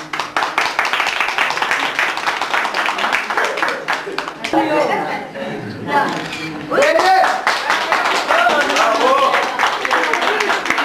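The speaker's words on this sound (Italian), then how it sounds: "Applauso!" Hands clap steadily at a 91st birthday party for grandfather Vincenzo, a dense close patter of applause running throughout, with voices chattering and calling out over it in the middle.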